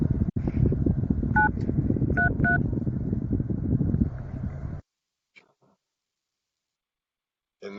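A Microsoft Teams call is placed on a desk phone: a few short dialing tones sound over a steady noisy hiss, which then cuts to near silence with faint clicks.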